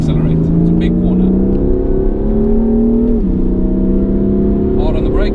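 A car accelerates out of a big corner on a race track, its engine a loud, close, steady drone that holds a rising pitch with one brief dip as it straightens out.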